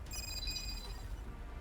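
A telephone ringtone rings in the video game Girls Frontline 2 as an emergency call goes through. It comes as steady, repeating high electronic tones over a low background hum, with no talking.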